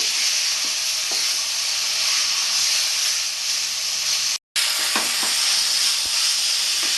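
Boneless chicken pieces sizzle loudly and steadily in hot oil in a pan, a dense continuous frying hiss with small pops and stirring scrapes, broken by one brief silent gap midway.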